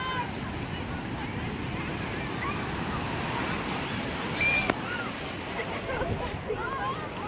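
Sea waves breaking at Puri beach, a steady wash of surf with wind noise on the microphone and occasional faint voices of a crowded shore.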